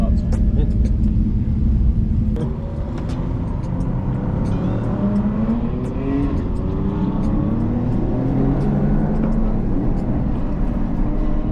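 A Toyota GR Yaris turbo hatchback drives hard around a race track on a track day, its engine droning and revving steadily with rising and falling pitch, loud and close for the whole stretch.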